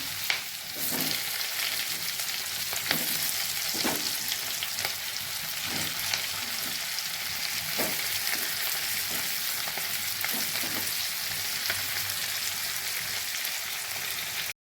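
Potatoes fry in hot oil with a steady bubbling sizzle, punctuated by occasional spatula scrapes and taps, close and continuous.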